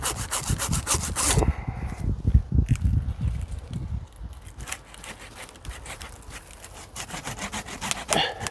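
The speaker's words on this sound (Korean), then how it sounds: "이렇게 좀 톱질을 좀 하고 있습니다" A hand saw rasps through a pine branch in steady back-and-forth strokes, close and fairly loud, the rhythm easing and thinning toward the end.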